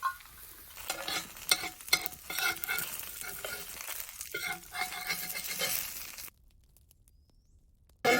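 Thick dosa batter sizzling and crackling on an iron tawa, with a few clinks and scrapes, loud for about six seconds before cutting to near silence and a brief burst at the end.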